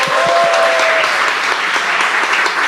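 A church congregation breaks into applause during a worship service, a dense, continuous clapping from many hands that holds steady at full volume throughout.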